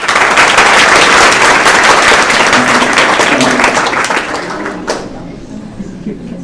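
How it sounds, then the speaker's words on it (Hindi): Loud, dense applause from a school audience welcoming a Brahma Kumaris speaker at Himani Convent school, a steady wash of many hands that holds for several seconds, then thins and fades away. "तो आप तालियों के साथ सब स्वागत करेंगे"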